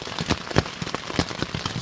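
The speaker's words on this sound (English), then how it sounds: "Oh, it's heavy rain. And I'm getting rained on." Heavy rain pounds a camping tent by a river, a dense close-up patter with irregular louder thumps of drops striking the fabric overhead.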